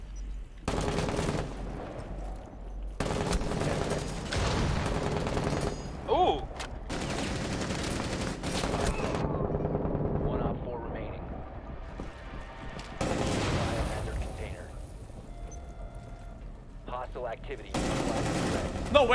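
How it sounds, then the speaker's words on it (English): Gunfire in Rainbow Six Siege, with repeated bursts of automatic shots and sharp cracks interleaved with gaps and some speech, loud and close over a tense game soundscape. "This guy is shooting at the air."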